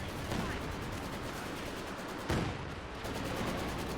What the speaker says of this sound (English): here comes the Katusha, not saving it, but oh, huge here, creeping barrage used